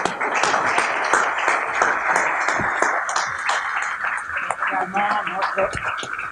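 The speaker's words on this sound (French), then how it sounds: "la salle applaudissez pour vous-même" A room full of people applauds at an entrepreneurship forum, a dense, sustained wash of clapping with a few voices heard faintly underneath.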